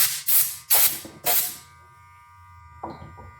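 A 1940s Andis Model E hair clipper, freshly repaired and oiled, buzzes in four short, loud bursts close by, then settles into a low hum with a couple of faint clicks.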